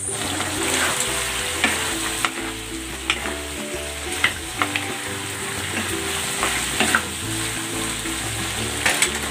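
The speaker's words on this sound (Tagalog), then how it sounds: "Simmer natin ito for 30 to 40 minutes." Pork ribs and corn simmer in a covered pan, giving a steady sizzling bubble close by with occasional small pops and clinks.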